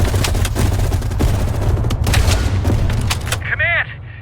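Gunfire in the video game Call of Duty Black Ops Cold War crackles in repeated loud bursts over a low rumbling bed, sharp shots arriving in quick irregular succession before a brief warbling tone near the end.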